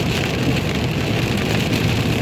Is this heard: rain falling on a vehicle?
yes